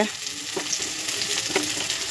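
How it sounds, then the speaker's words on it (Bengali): Chopped onion and garlic sizzle in hot oil in a wok, with a steady crackling fry and a few louder scrapes of stirring, close and without talk. "প্রথম কড়াইতে তেল দিয়ে দিয়েছি, তারপর পেঁয়াজ কুচি দিয়ে দিলাম, তারপর রসুন কুচি দিয়ে দিলাম।"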